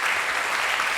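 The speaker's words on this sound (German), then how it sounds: "Bitte kommst du nach vorne zu uns und einen großen Applaus." Dense applause from a talk-show audience welcoming a guest onto the stage, a steady, loud wash of many hands clapping together with no break.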